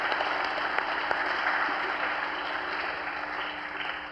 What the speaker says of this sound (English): Let's give Dara a nice round of applause.